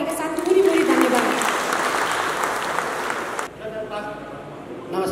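Dense, sustained applause fills a public assembly hall, thinning slightly near the end as a speaker begins.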